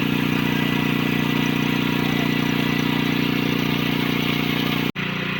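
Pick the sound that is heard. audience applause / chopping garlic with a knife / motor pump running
motor pump running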